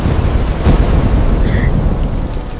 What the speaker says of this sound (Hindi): फिर से बारिश बहुत तेज हो चुकी थी। बारिश की आवाज फिर से उस कमरे में गूंज रही थी।